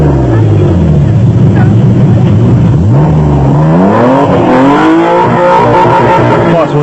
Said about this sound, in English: Foss was unable to get Wobbler's Nissan out of the mud